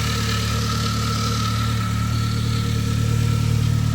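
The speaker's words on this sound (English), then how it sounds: "You can hear the belt noise, or the idler pulley noise down there." Steady Saab engine idle with a constant mechanical whine and hum from the belt and idler pulley, continuous and fairly loud, no voices.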